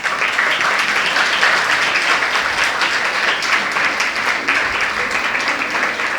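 Steady, loud audience applause fills a Hindi comic poetry gathering in Haryana, dense clapping holding evenly throughout with no voices over it.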